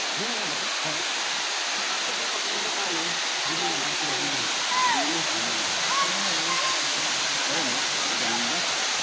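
Magallanes falls pours as a steady, loud broadband roar of falling water filling the whole clip, with faint voices and bird-like chirps mixed underneath.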